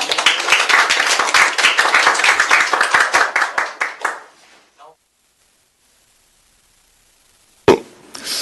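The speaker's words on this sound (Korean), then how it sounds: "큰 박수 부탁드립니다" A crowd applauds briskly for a few seconds, the clapping thinning and fading into silence before a single voice begins.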